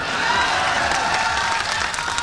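Loud, continuous applause from a crowd at a political by-election gathering in Rampur, dense clapping sustained throughout, with faint voices mixed in.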